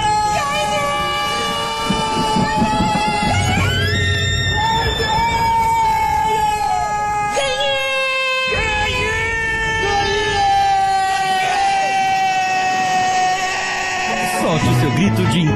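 A crowd of people shouting and yelling together in a lottery advert, with loud, sustained, overlapping cries and pitch swoops that run throughout over a busy, dense background.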